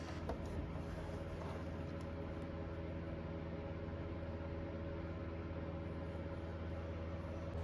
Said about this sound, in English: I'm going to sew off the edge of the fold with my tiny stitch